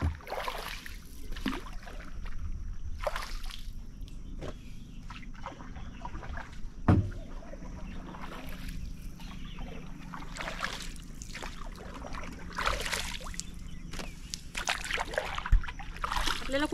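A woman rows a small wooden boat on a tidal creek, with repeated oar strokes and soft water splashes and trickles in an irregular rhythm, and a few knocks against the hull.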